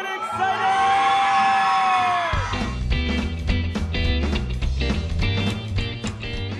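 A long whooping yell from a crowd at an ice cream parlour show gives way to loud music with excited shouts and cheers mixed in, lively and close.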